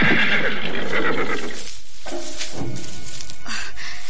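A horse whinnies loudly and close, a long shrill neigh, followed by a few scattered hoof clops and snorts toward the end.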